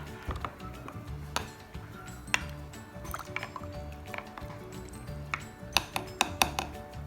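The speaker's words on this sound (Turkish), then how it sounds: "Karıştırıyorum. Tahta kaşıkla." A wooden spoon stirring homemade black grape vinegar in a container, giving soft wet swishes and sloshes with scattered light clinks and drips, quiet and close, with no talking.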